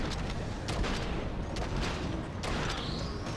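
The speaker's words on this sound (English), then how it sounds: "Whatever, I'll just use the shotgun." Rapid shotgun blasts ring out in the video game Enter the Gungeon, dense overlapping bursts of gunfire over steady in-game noise for a few seconds.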